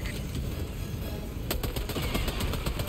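Gunfire from a teammate being shot by friendly fire in Helldivers 2, dense bursts of rapid shots picking up sharply halfway through, loud and continuous over a busy game soundscape.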